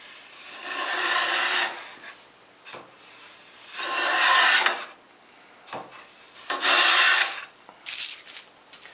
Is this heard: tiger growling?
no